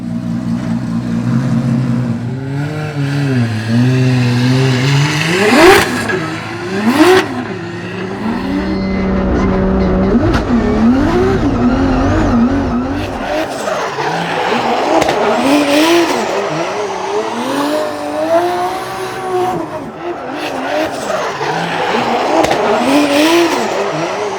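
A loud street-legal drift car, a backup to the pro car, revs hard with tire squeal and skidding, the engine note rising and falling over about twenty seconds of continuous driving close by.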